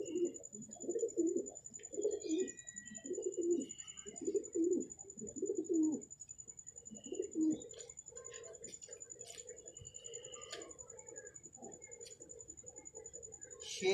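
Pigeons coo close by in a series of soft, rhythmic calls that stop after about six seconds. A quieter, steady background with faint ticking and a high constant tone follows.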